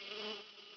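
Cartoon mosquitoes from Ninja Hattori buzzing in a dense, steady whine, close and loud, holding briefly before easing off slightly, with no talking.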